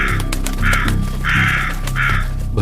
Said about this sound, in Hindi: भयंकर आवाज करता हुआ एक कौवा आकर डिश के अंदर गिर गया।